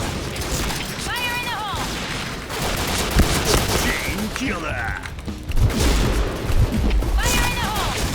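Machine gun fire in the shooter video game Point Blank, a sustained dense rattle with short breaks and game effect tones, loud and up close, with someone talking over it.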